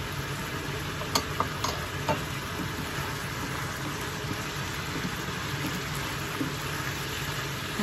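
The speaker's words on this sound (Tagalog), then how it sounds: "Haluin natin ng konti." Chopsuey vegetables, including green, yellow and red peppers and mushrooms, are stirred in a pan with a continuous close sizzle and a few sharp utensil clicks against the metal.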